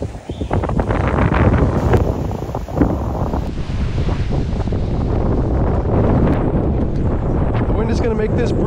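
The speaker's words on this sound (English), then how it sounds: "The wind is gusting." Loud, steady wind roaring across the microphone, with surges and buffeting that drown out most other detail.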